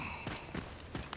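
Footsteps in the first-person shooter Delta Force: three or four loud, close thuds at a quick, uneven pace, each with a bright scuffing edge, over a steady hum of in-game ambience.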